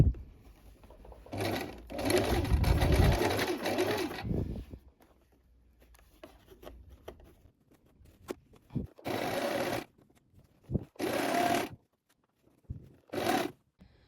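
A sewing machine stitches elastic onto a skirt in several separate bursts, a long run first and then shorter ones, its motor whirring loudly and close, with quiet pauses and small handling clicks between bursts.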